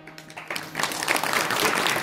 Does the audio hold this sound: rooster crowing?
no